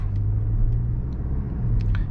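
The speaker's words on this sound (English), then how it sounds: "now tap into the accelerator and the car will start to move." Inside a 2023 Mercedes GLC AMG SUV pulling away on a night drive, a steady low engine and road rumble hums evenly, with a few faint ticks above it.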